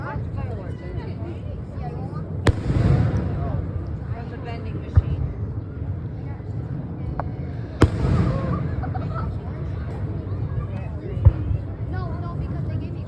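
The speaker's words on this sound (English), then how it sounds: "You guys watch fireworks, don't you?" Fireworks explode in a few sharp, booming bursts spaced several seconds apart, ringing out over a steady murmur of crowd noise and nearby conversation.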